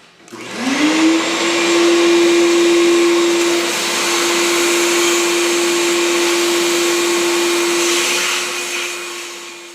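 A vacuum cleaner spins up and runs steadily with a loud, close, even whine while clearing drill swarf from freshly drilled cylinder head bolt holes on a hatchback engine, then begins to wind down near the end.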